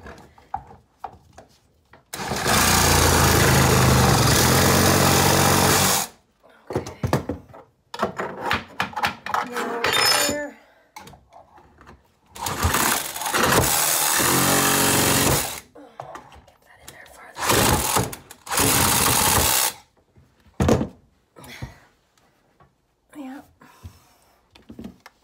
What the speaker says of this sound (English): Sawzall with a metal blade.